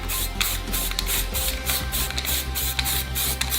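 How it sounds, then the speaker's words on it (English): Black spray paint hisses onto a repaired plastic JBL speaker enclosure in close, steady bursts with brief pulsing gaps, no voices present. "A new coat of black paint covers the repaired enclosure, bringing the patched areas and original plastic together into one consistent surface."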